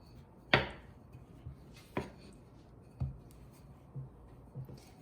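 Scallion pancake dough pressed and rolled thin on a work surface, giving a few soft thuds and rolling strokes spaced about a second apart, close and quiet with no talking.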